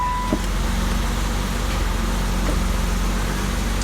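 1990 BMW 325i engine idling after its first start, a steady close low rumble with a regular pulsing firing rhythm, continuous and moderately loud, no speech.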